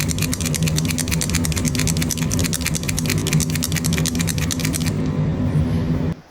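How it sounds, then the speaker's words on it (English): Mixing ball inside a shaken acrylic paint pen, Posca style, rattling in a fast, even stream of sharp clicks for several seconds over a low hum, close and loud, then stopping abruptly. "I'm going to turn the sound up so you can hear the ball rattling"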